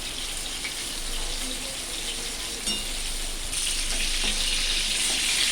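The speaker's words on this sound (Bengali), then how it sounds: "আমি পটলগুলো একটু উল্টে পাল্টে দিচ্ছি, যাতে অন্য পিঠটাও ভালো করে ভাজা হয়।" Pointed gourd (potol) sizzles steadily as it fries in a pan, a continuous close hiss that swells louder partway through as the pieces are turned, with a few faint utensil scrapes.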